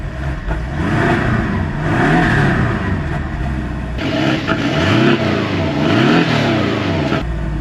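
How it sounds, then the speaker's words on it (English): A Porsche Boxster engine in Sport Plus mode revs up repeatedly, rising and falling in pitch with a throaty growl, close and loud, then settles back. "If I put it into sport mode, sport plus, it's a slightly different noise to it"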